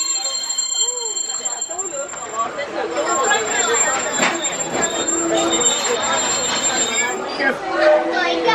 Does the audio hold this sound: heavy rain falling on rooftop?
no